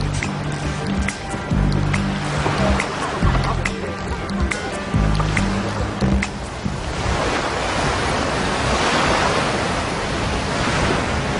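Surf rolling onto a North Sea shore, a steady wash of breaking waves with wind across the microphone, louder and more diffuse in the second half.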